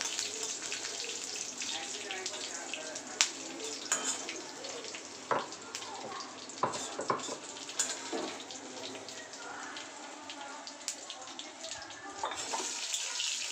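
Fennel seeds and green chillies frying in a pan, a soft continuous sizzle with sharp clicks of a spoon stirring against the pan, quiet and close with faint speech in the background.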